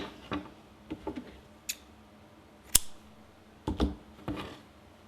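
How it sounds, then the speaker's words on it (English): Scissors snip crochet yarn after a slip stitch, with a handful of short, sharp clicks and snips scattered unevenly over quiet background, close and crisp, without talking. "Slip stitch, then we can cut the yarn."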